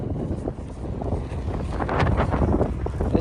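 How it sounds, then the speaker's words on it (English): Strong gusty wind buffets the microphone on a roadside walk near Pearson Airport in Mississauga, a loud constant low rumble that grows rougher toward the end, with no voices. "It's just been so freaking windy lately."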